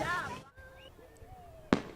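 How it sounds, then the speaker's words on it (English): Fireworks burst in the sky during an outdoor event: thin whistling tones rise and fade, then one sharp bang lands near the end, with voices talking beneath. "As we were telling that story, the fireworks have started."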